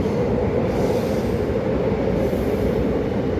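A train departing Namyeong Station in Seoul rumbles past close by, a loud continuous roar of wheels on rails that stays steady throughout.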